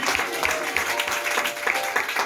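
A church congregation applauding during a sermon, a dense continuous wash of many hands clapping for a couple of seconds, loud and close with a faint murmur of voices.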